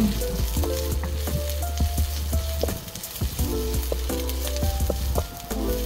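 Garlic, onion and ginger sizzle and fry in a pan for a tinolang manok chicken dish, a steady close crackle with frequent small pops and stirring clatter throughout and no talking.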